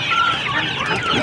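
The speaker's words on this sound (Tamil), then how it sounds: "என்ன கோழி இது? நாட்டுக்கோழி." Country chickens at a weekly market in Vadalur cluck in quick, overlapping bursts, close and fairly loud, with market chatter beneath.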